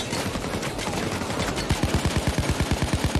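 Gunfire in Payday 2: a dense chaotic burst of shooting, then a steady rapid automatic stream of evenly spaced shots, loud and close, no talk over it.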